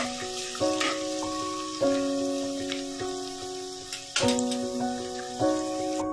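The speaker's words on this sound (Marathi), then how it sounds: "कांदा थोडा लालसर करूया।" Onions sizzle and crackle in a hot pan while cooking a mutton bhaji, a soft steady frying hiss under a tuneful background melody of sustained notes.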